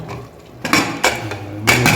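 Metal clanks of a lid being set onto a pressure cooker, three sharp knocks spread over a couple of seconds, close by.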